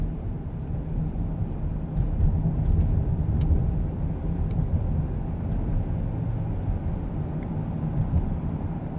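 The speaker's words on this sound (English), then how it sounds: "Big FedEx truck there on the right." A big FedEx truck on a road near Norwich, Connecticut, heard as a steady, loud low rumble of traffic and engine noise that swells slightly around the middle, with no talking.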